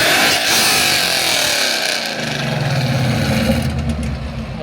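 A Ford Mustang's engine roars loudly and close by, holding a harsh high-revving note before dropping to a deeper, rising growl as it is revved again.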